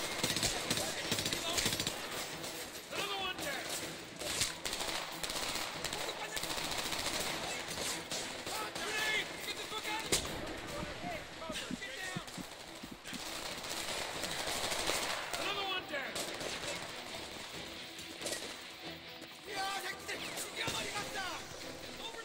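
Video game Homefront battle with dense, continuous gunfire and machine-gun bursts, loud and busy throughout, mixed with shouted voices and game sounds.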